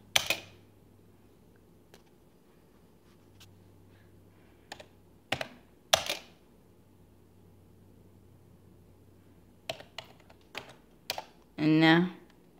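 Short scattered bursts of typing on a computer keyboard while entering a command on a Raspberry Pi setup, crisp close key clicks separated by pauses over a low background hum, with a brief voice near the end.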